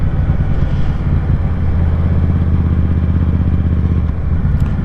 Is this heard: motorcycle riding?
yes